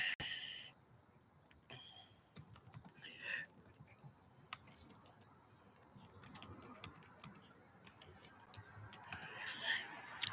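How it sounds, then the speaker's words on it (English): Quiet, scattered clicking of keys tapped in short bursts with pauses between, fairly close and soft, with faint rustling in the background. "sorry, I'm typing, you guys"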